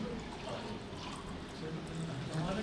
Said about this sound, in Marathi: आता मी याच्यात हे पाणी टाकतोय